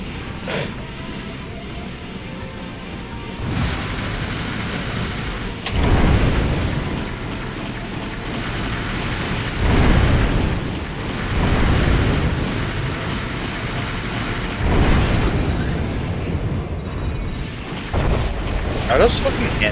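Repeated explosions from hand missiles in a free-for-all video game match, a string of heavy booming blasts every few seconds over a steady background rumble, with people talking throughout.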